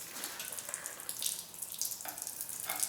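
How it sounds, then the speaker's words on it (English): Water pours and splashes from a tilted engine in a continuous hissing stream, with a few surging spurts, heard up close. "There's some more water coming out now that we got it tilted this way."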